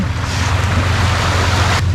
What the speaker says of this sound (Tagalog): andito ngayon tayo sa gilid ng dagat